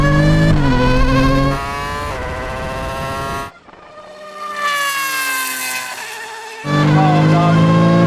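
An F1 car, a MotoGP bike and a Porsche drag race from a rolling start in third gear: loud high-pitched engine whines climb through gear changes, cut out briefly, then return at full volume.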